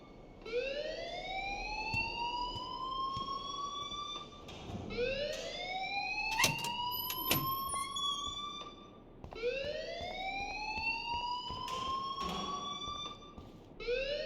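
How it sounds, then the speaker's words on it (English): An alarm sounds in Life Is Strange: Remastered as repeated rising electronic whoops, each swell climbing in pitch over a few seconds and looping steadily, with sharp clicks and bangs scattered between cycles. "please turn off that alarm since that's your job"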